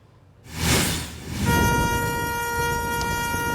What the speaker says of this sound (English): And that is the sound of tornado sirens blaring